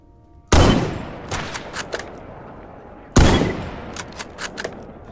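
Two loud bursts of gunfire ring out in a zombie shooter video game, each a sharp blast that trails off into scattered follow-up shots and clatter, with no talk over them.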